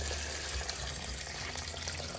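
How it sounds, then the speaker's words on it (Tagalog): Hot water pours steadily into a pot of chicken tinola, a continuous close splashing wash of liquid with no talk over it. "Lagyan pa natin ng mainit na tubig."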